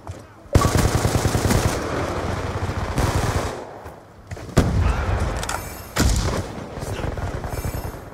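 Rapid automatic gunfire from Call of Duty Black Ops 2, loud and sustained bursts with brief pauses near the start and middle, dense rattling volleys filling most of the stretch.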